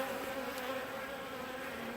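A swarm of honey bees balling a rejected queen gives a steady, close, dense buzzing hum that holds evenly throughout, with no voices.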